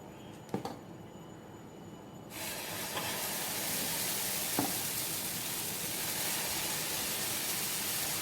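Khaproli batter hits a hot pan and bursts into a loud, steady sizzling hiss that carries on without a break, with a few small clicks of utensils before it starts.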